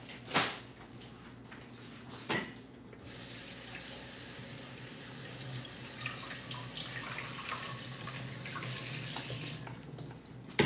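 Water running into a kitchen sink during rinsing at home while cooking, a steady close splash and flow that builds over the clip, with a couple of brief clunks near the start and no talking.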